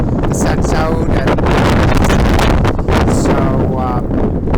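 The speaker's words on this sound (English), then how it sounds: "the weather is particularly windy" Strong wind blows at a harbor, buffeting the microphone with loud, continuous rumbling gusts that swell and ease throughout.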